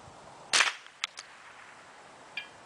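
A Ruger 10/22 .22 LR rifle fires at a 300-yard bullet trap, one sharp crack followed by a few faint distant taps, then quiet outdoors with no voices.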